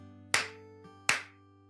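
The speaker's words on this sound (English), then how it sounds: "Can I make some clap sounds?" Two sharp, close hand claps about three-quarters of a second apart, crisp and isolated against a low steady background hum.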